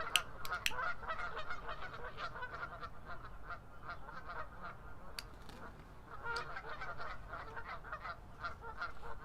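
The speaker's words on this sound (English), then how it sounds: "geese making a ruckus." A flock of geese honks and squawks in a noisy, continuous clamor, with sharp overlapping calls rising above a steady outdoor din throughout.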